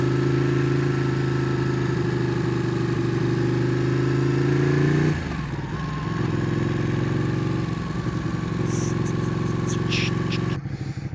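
Ducati 899 Panigale engine droning loudly, then dropping as a gear is engaged and pulling away with a rising rev in city traffic, with faint clicks near the end.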